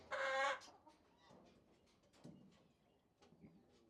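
A hen clucks near a wide-open nesting box, starting with a loud, sharp squawk and followed by quieter, intermittent clucks and rustling.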